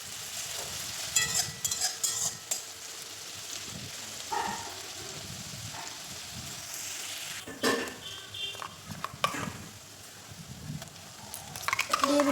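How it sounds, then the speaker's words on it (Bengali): Chopped onions fry in a pan and get stirred now and then, a soft continuous sizzle broken by scraping and clinking spoon strokes, with faint talk in the background. "পেঁয়াজগুলোকে একদম লাল লাল করে ভেজে নেব।"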